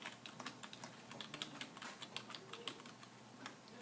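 Typing a SQL select command on a computer keyboard, a quick run of light, close key clicks in an uneven rhythm, fairly quiet, with no voices.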